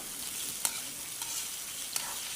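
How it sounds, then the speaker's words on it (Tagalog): Potatoes and carrots frying in a pan, a continuous close crackling sizzle with a couple of sharp stirring clicks and no voices. "Masarap kasi yung patata at saka carrots ipiprito muna"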